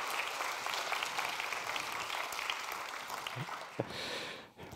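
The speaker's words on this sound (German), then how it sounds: "Bitte einmal nochmal Applaus, aber diesmal speziell für Frau Dr. Sarah Sa" Audience applause at a digital health symposium in Münster, a fairly quiet, distant wash of clapping from a seated crowd that fades out near the end.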